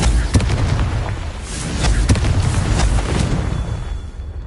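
Repeated Confringo blasting-curse explosions in the video game Hogwarts Legacy thud and crackle in a busy run of several sharp bursts over dense rumbling game noise.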